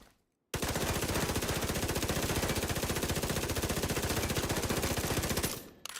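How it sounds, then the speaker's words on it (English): Submachine gun in The Division 2 firing one long, unbroken burst at about 900 rounds per minute, a rapid, even rattle of shots lasting around five seconds after a brief silence, loud and close with no talk over it. "Fast firing submachine guns. Like this one's got an RPM of 900."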